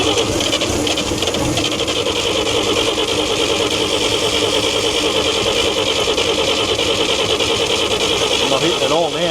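A 1942 Chevrolet 4WD truck engine is cranked over and over, loud and close with a steady rhythmic churn, flooded and struggling to fire, with a rising whine near the end.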